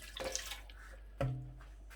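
Yakhni stock being poured around the sides of a pot of rice for Kabuli pulao, with soft splashing and trickling liquid that is quiet and close.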